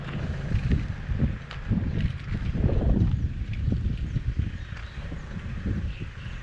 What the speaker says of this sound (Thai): ลมจะแรงสักนิดหนึ่ง